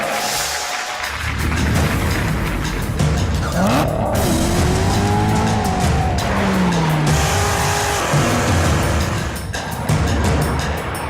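A 2019 Chevrolet Corvette ZR1 sports car drives hard at a reveal event, its loud engine roar rising and falling with sharp tire squeals and skidding throughout, close and continuous.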